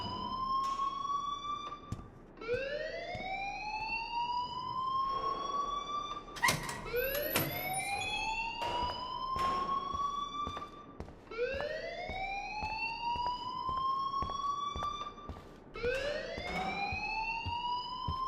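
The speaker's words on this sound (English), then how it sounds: "please turn off that alarm since that's your job" A wailing alarm in the video game Life is Strange, with repeated rising siren sweeps cycling loudly every few seconds over a background of clatter and commotion.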